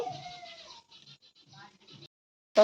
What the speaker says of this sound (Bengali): বিলাই বিলাই